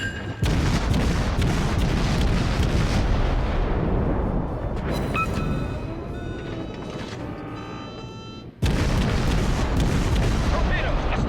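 Naval guns fire in a World of Warships battle against the cruiser Atlanta, heavy booms and rumbling blasts filling the scene loudly, with a brief drop near the end before the roar resumes.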